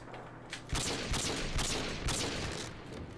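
Call of Duty Modern Warfare 2 gunfire rings out as several loud, close, rapid shots in a quick cluster over noisy game ambience, without any talking.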